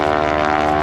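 John Mohr's propeller aerobatic airplane rolls at the 2011 Blue Angels Homecoming Airshow, giving a loud, steady, buzzing engine drone with a rich harmonic tone throughout a very short moment.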